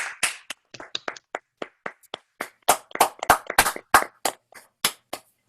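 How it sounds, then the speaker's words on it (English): Several people clap their hands in appreciation at a birthday dessert celebration held over an online call, their scattered, uneven claps coming close and fairly loud, with no talking. "show our appreciation by clapping our hands for Guatemala"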